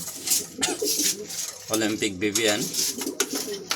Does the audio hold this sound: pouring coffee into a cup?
no